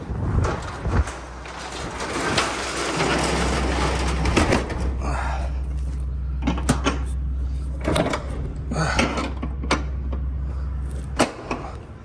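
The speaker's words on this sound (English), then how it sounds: "Shut these big barn doors." Big barn doors rolling shut on a farm, a long grinding slide followed by scattered clunks and knocks over a low steady engine hum.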